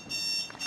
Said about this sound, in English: It's your alarm clock.